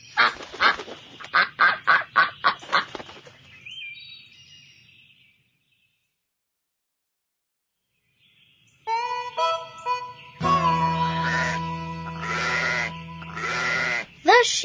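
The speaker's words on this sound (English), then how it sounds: "The duck." A farm duck gives a rapid run of about seven loud, nasal quacks. Silence follows, and then other farm animal calls, including sheep-like bleats, come in close and clear.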